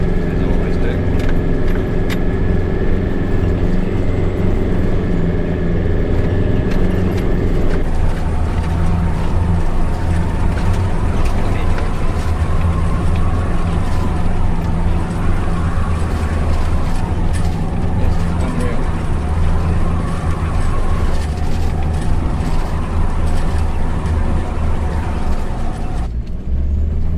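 A 4WD climbs a steep outback station track in the Flinders Ranges in second gear low range with the rear locker engaged, its engine a steady low drone throughout with some cabin rattling and speech over it.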